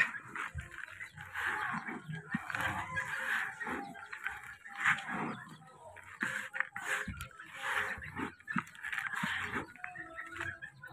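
Chickens cluck and squawk repeatedly close by, in uneven bursts, with an occasional crow and faint background voices.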